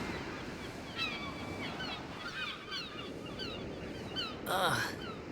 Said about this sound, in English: But the waves, the sound,